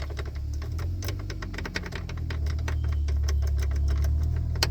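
A worn key rattles and clicks in the ignition of a 2008 GMC Sierra, a quick run of close, sharp taps over a steady low engine-like hum.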